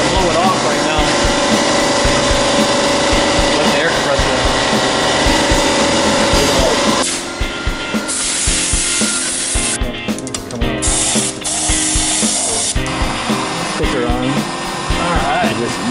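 Compressed air blasting debris off snow plow parts, a loud continuous hiss that drops and sputters in short bursts partway through, with workshop clatter underneath.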